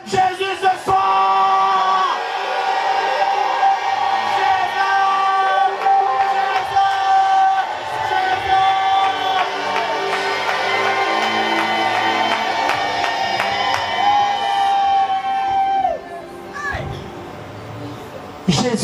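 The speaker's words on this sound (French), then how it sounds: "qui veut crier fort le nom de Jésus ce soir." A church congregation shouts and cries out the name of Jesus loudly and together, a sustained wall of raised voices and whoops over musical tones, then the shouting drops off near the end.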